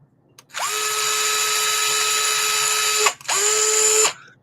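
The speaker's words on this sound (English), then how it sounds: "That hole's a little tight, so we're going to drill it out." DeWalt cordless drill drilling out a tight hole, two sustained high whining runs with a brief stop between, close and loud.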